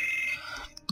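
A video game alarm in Morrowind sounds a short electronic tone that holds steady, then sweeps downward and ends in a couple of brief beeps, loud and clear with no talk over it.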